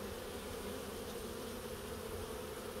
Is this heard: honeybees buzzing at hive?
yes